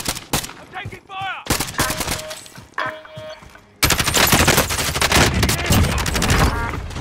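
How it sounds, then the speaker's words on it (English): Gunfire from the Call of Duty Warzone video game: bursts of shots and loud sustained fire up close, mixed with game effects, with a voice speaking briefly near the start. "I'm taking fire!"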